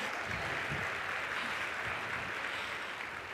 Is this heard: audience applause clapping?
yes